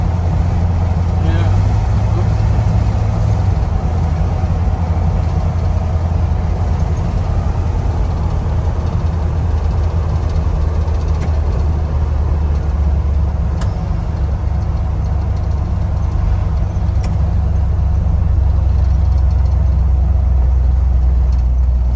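A 1960 Ford F-100 pickup with a 351 V8 cruises down the freeway, giving a loud, steady low drone of engine and road noise inside the cab with no letup.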